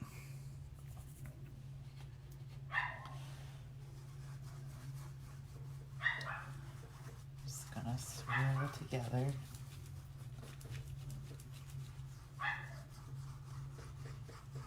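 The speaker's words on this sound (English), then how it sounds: "Dog's barking, and of course he is." A dog barks a few times in the background, spaced out and somewhat distant, while a person talks quietly nearby.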